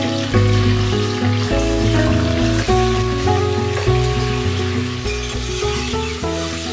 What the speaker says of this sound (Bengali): তেলটা ভালো করে গরম হয়ে গেছে, এবার ধুয়ে রাখা চিকেনটা আমি কিন্তু ডিরেক্টলি অ্যাড করে দেবো